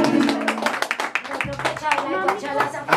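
A crowd claps steadily at a birthday party to applaud a youth mariachi band, with voices and chatter mixed through the brisk, continuous clapping.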